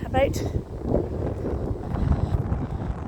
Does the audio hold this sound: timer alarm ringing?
no